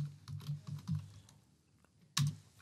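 Keys clatter on a computer keyboard as a workflow name is typed, a quick run of close taps, then a pause and one sharper final keystroke, with no voices.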